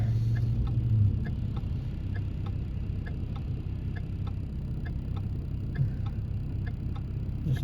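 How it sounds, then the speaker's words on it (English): A car's turn signal ticks in a steady, even rhythm, fairly faint over a low engine rumble inside the vehicle. "listen to the rhythm of the turn signal."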